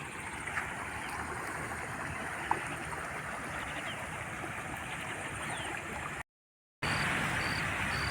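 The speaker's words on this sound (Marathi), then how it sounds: "आता खूप छान वाटतंय शांत मंद मधुर खळखळ खळखळ आवाज" Gentle, steady rushing of a babbling stream beside farm fields fills the scene, soft and continuous with no voices, briefly cutting out near the end.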